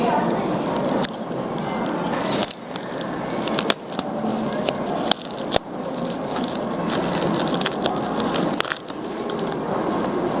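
Crinkling and squishing of a black bubble-wrap mailer being torn open, a steady crackly rustle across the whole stretch with several sharp louder rips and crunches, close up and without speech.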